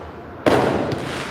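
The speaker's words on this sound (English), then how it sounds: "let them see the fireworks. They popping them back there behind me." July 4th fireworks going off outdoors behind a person: a sudden loud burst after a quiet moment, then sustained crackling with a second faint pop, no voices.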